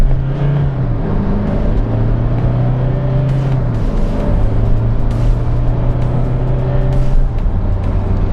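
A Toyota Innova Crysta on a road test, its engine note droning loud and close from inside the cabin, pitch holding then stepping down as gears change, with steady road and wind noise underneath.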